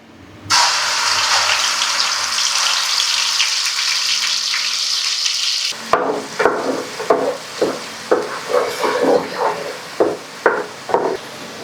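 A ground paste of green chili, ginger and garlic hits hot oil with an abrupt loud sizzle that roars for several seconds, then gives way to a series of knocks and scraping stirs in the pan.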